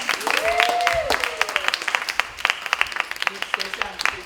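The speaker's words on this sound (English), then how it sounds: "Give her a huge round of applause." Audience applause at a pageant training seminar, a crowd clapping steadily and fairly close, thinning into scattered individual claps, with a voice talking over it.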